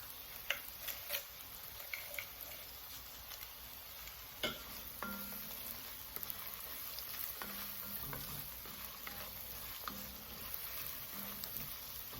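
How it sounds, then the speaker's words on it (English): Quiet scraping and clinking of a spoon stirring homemade chicken noodle soup in a pot, irregular strokes with faint sizzling underneath, no talking. "Stir it up. Make sure it doesn't stick."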